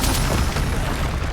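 A Confringo blasting spell from Hogwarts Legacy goes off as a loud, broadband explosion with a heavy booming low end, filling the short moment with dense rumble and crackle and no talk over it.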